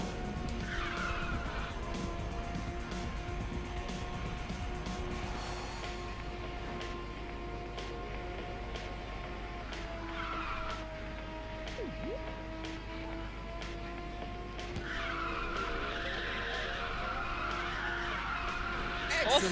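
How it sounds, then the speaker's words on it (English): Tires squeal and skid as a car drifts in Ridge Racer 6, with a steady engine drone and long sliding screeches swelling over a racing soundtrack, and a voice speaking briefly. "That was really good, that drift."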